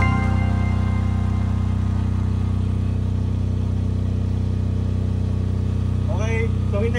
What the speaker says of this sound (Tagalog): pag hinugot ko to, dapat mag-brown out and then mabubuhay na si generator